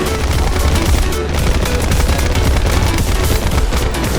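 Loud, continuous machine gun fire in War Thunder as guns are aimed at a B-17 bomber, a dense rapid stream of close shots with a heavy low-end rumble.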